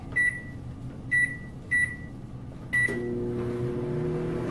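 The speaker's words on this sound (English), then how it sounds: "I'm going to close the microwave, set it to 3 minutes." Several keypad beeps from a microwave, then the oven starts up with a steady low hum and whir.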